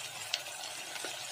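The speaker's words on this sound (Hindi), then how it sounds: "अब हम इसमें कटे हुए टमाटर डालेंगे" Chopped tomatoes go into a hot pan for rawa upma, giving a brief soft sizzle and faint stirring clicks over a steady hiss.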